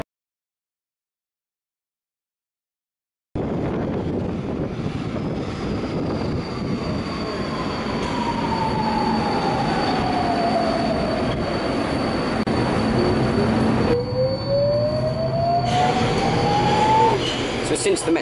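A driverless Budapest Metro line 4 subway train running, heard from on board: a steady loud rumble of wheels and motors, with rising and falling electric whines as it accelerates and slows, starting after a few seconds of silence.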